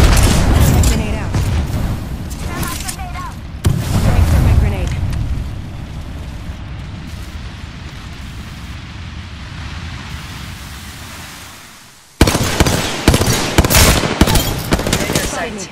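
A grenade blast and bursts of automatic gunfire ring out in an Apex Legends match, with loud rapid shots at the start, a booming rumble fading through the middle, then a sudden return of heavy firing near the end.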